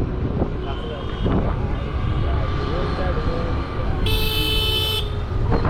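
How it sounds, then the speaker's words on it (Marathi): A loud, steady vehicle horn blares for about a second near a dam at Tala, Raigad, amid constant wind and engine rumble, with a voice talking over it. "असा हॉर्न वाजवायचा टन आला की"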